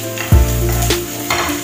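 Onion goes into a hot pan with a sharp metallic clank, then sizzles and spits steadily, close by, with another light clatter of the pan near the end.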